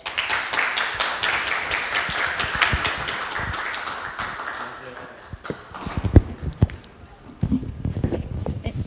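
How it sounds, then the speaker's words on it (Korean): A small audience at a book talk welcomes the author with brisk, crisp clapping that fades after a few seconds, followed by voices talking and a few scattered knocks. "여러분 큰 박수로 환영해 주세요."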